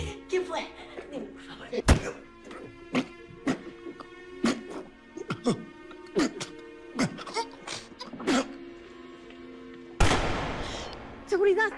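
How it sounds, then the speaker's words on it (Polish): Sharp, loud gunshot-like bangs ring out one after another at irregular intervals, followed by a burst of noisy rushing near the end. "Padł drugi strzał."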